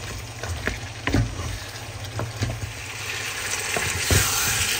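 Chicken and small potatoes fry in a pan with a loud, continuous sizzle, broken by several sharp scrapes and clicks of stirring; no voices are heard.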